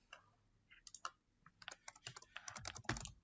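Keys clatter quickly on a computer keyboard as a search tag is typed into a literature database, crisp close clicks in irregular bursts, quiet and alone with no talk.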